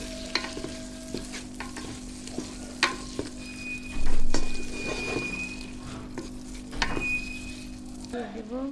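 Tomatoes sauté in hot oil with spices for a dried-fish pickle: a soft, continuous sizzle with scattered scraping and tapping stirring strokes and a brief louder surge midway.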